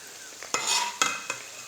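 Gulab jamun frying on a stove, a soft sizzle broken by three sharp scraping stirs of a utensil against the pan in quick succession.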